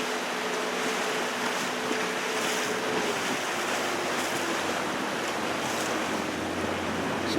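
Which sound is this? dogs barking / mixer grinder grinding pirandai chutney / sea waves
sea waves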